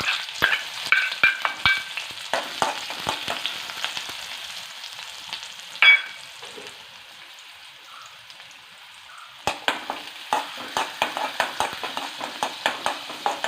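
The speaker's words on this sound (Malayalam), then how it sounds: "ഉള്ളി ഇടുവാണേ." Onion frying in oil after mustard seeds for a Vishu curry, a close, steady sizzle broken by sharp crackles and pops, with louder bursts near the start and end and a quieter stretch in between, and no talking.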